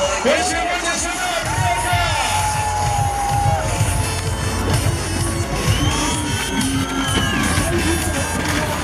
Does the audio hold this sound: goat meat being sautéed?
no